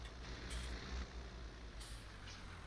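A truck in Farming Simulator 19 drives back to the yard, its engine a steady loud drone with a couple of air-brake hisses on top.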